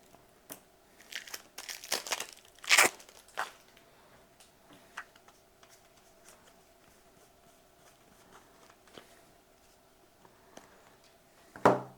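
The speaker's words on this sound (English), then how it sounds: "These cards have that built-in pull strap. So you can easily unwrap them." A pack of playing cards is unwrapped by its pull strap in a quiet room, with a few sharp crinkling and tearing bursts of plastic wrap and small scattered rustles between them.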